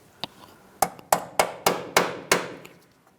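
A hammer taps a metal clip onto a brake hose bracket on a Ford Transit 250, about seven sharp, close metallic strikes in a quick, slightly irregular rhythm, each with a short ringing decay.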